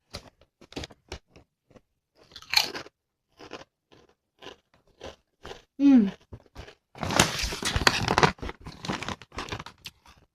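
Crunchy bites of honey mustard flavored potato chips, with scattered short crackles early on and a longer, denser burst of loud, close crunching toward the end, plus a brief vocal sound in between.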